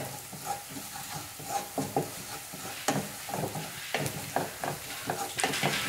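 Chili powder and ground spices being stirred in a pan for a dal curry, with a spoon scraping in repeated strokes over a steady sizzle of frying, close and moderately loud without talking.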